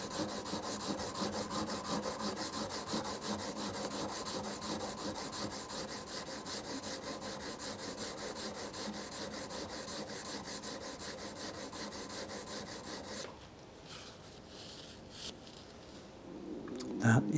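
A steel blade rubbed steadily on a whetstone in long, even strokes, a continuous scraping rasp that holds for about thirteen seconds and then drops off to a quieter pause.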